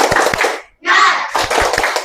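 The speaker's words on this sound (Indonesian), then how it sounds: "Tepuk semangat." Schoolchildren in a classroom perform a rhythmic spirit clap, sharp unison claps in quick patterns broken by a brief pause and a loud group shout, then more claps in rhythm.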